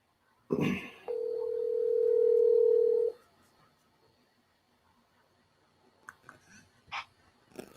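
On a live show call to a mystery phone, a handset clicks, then a steady dial tone hums for about two seconds before cutting off, followed by quiet clicks and a few soft beeps.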